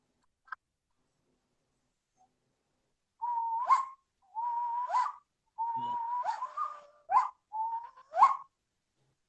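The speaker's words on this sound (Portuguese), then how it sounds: "Isso daqui são apitos xamânicos." A shamanic owl whistle played in a series of five or six breathy, hooting whistle calls, each a steady tone ending in a sharp upward flick, spaced about a second apart after a brief click.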